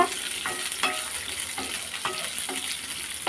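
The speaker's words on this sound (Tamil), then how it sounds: "பச்சை மிளகா சேர்த்து ஒரு வதக்கு வதக்கிட்டு" Onion and green chillies being sautéed in a pan for a chutney, with a steady frying sizzle and repeated stirring scrapes of a spoon against the pan, close by with no voices.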